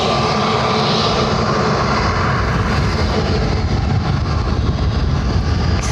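An EasyJet A321neo airliner arriving from Gatwick at Lanzarote Airport, its engines producing a loud, sustained roar that stays steady and close across the whole stretch, with no voices.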